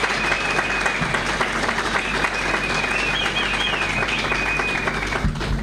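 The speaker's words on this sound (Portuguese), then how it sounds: "mais uma salva de palmas para ela também" Loud, sustained applause from a crowd at a Mozambican political rally, steady dense clapping throughout with a faint whistle-like tone above it and a few muffled voices underneath.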